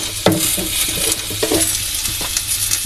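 Food frying in a pan with two bay leaves and salt, stirred with a utensil: steady close sizzle with scraping strokes and occasional light clinks against the pan, no voices.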